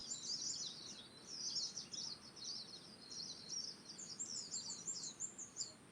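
Zebra doves call in a soft, continuous chatter of high, rapid trilling notes, fairly faint against a quiet natural background.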